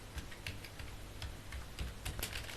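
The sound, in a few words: typing on a computer keyboard in PowerPoint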